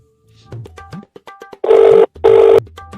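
A telephone rings in two loud electronic bursts, preceded by faint tones and beeps, close and clear with no voices.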